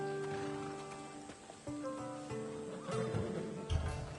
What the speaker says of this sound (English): That's a nice horse, Socrates. It's a very nice horse. A sturdy horse.